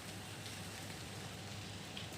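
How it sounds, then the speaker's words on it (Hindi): Light drizzle falling steadily, a soft continuous hiss of fine raindrops with no talking. "हल्की हल्की बूंदाबांदी"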